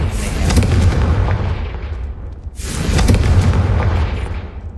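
Two heavy booming blasts from the Confringo fire spell in Hogwarts Legacy, each a loud rumbling roar that swells and slowly decays, the second following about two and a half seconds after the first.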